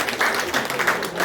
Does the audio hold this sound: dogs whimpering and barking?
no